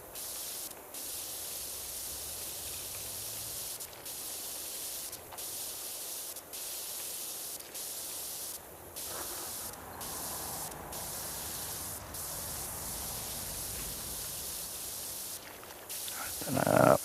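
A pressure washer sprays in the video game PowerWash Simulator 2, a steady loud hissing jet broken by short pauses, with a brief louder burst near the end.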